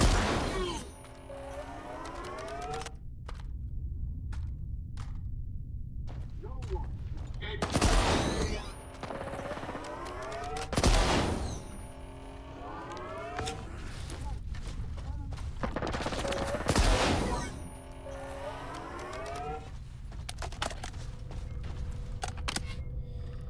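Gun bursts in the shooter S.T.A.L.K.E.R. 2, heard as several loud broadband volleys spaced a few seconds apart over steady ambient game sound, with speech in between.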